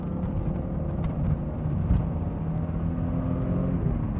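Toyota Supra Mk2 engine held at high revs, a continuous rough, raspy drone with faint wavering pitch, heard close and steady throughout with no voices.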